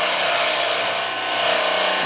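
A lathe tool shaves wood continuously to shape a small tenon, a dense, steady hiss of cutting close by without pause.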